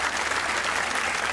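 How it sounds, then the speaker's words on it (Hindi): A studio audience claps for Reema on a comedy talk show, giving a short, dense burst of applause that fills the whole moment. "आप सबको रीमा के लिए तालियां होनी चाहिए"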